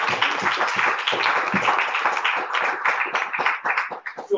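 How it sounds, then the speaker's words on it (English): Congregation applauding at an annual church meeting, dense steady clapping from many hands, fairly close and continuous, tapering slightly near the end. "So I just want everyone to give us a round of applause."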